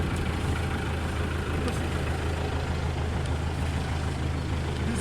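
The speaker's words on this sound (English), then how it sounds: "single cylinder engine." A homemade chain-drive tractor's 14 horsepower single cylinder engine runs steadily, a constant low throbbing rumble with a broad noisy hiss on top, loud and close throughout, with no talking.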